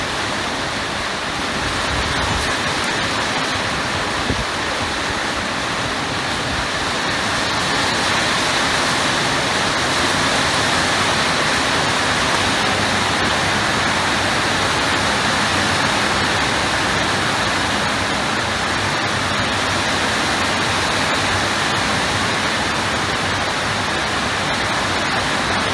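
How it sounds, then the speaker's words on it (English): Heavy pouring rain in Kuala Lumpur, a dense, steady roar of downpour that holds loud and unbroken throughout with no voices. "It certainly rains a lot here."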